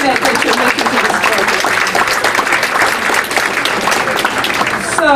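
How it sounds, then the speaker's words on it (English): Sustained audience applause at a benefit dinner, dense and loud, filling the room steadily for several seconds with a faint murmur of voices underneath. "So just give yourselves applause for you, for being here"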